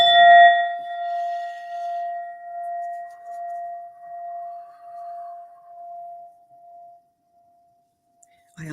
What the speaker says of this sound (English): this beautiful Indian metal bowl